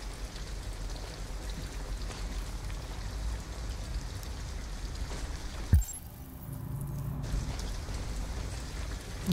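Rain in the video game Detroit: Become Human, a steady hiss of rainfall on surfaces with a sharp thud near the middle and a brief hush before the downpour resumes, faint and continuous.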